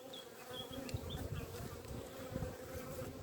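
Honey bees buzzing around beehives heavy with pollen, a faint continuous drone with a few louder passes of single bees nearby.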